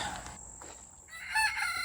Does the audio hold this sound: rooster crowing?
yes